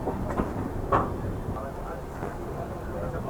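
A train running on the adjacent track past the moving Gitanjali Express, a steady rumbling rush of rail noise close by with a few brief louder swells, and voices talking faintly underneath.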